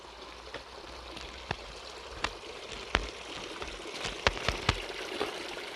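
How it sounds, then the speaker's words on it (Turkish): Water pours steadily from the spouts of the Lovers' Fountain at a spring site, a soft continuous splashing wash broken by scattered sharp drips and plinks, fairly faint and with no voices. "Burası özel, suyun sesi olan çeşmeler."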